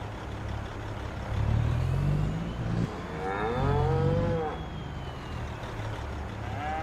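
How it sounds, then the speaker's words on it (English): Cattle mooing in the farming game Farming Simulator 25, two long drawn-out moos rising and falling over a steady low rumble of vehicle engine noise, moderately loud and close. "Yeah, I can hear that mooing."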